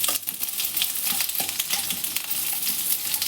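Box-cut onions frying in oil for paneer butter masala: a dense, close crackling sizzle with light stirring scrapes, steady throughout with no voices.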